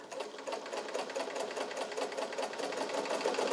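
A restored vintage all-metal Kenmore Model 120 zigzag sewing machine, made in Japan, running a straight stitch with a steady rapid mechanical whir and needle clatter, close and fairly quiet, with no talking.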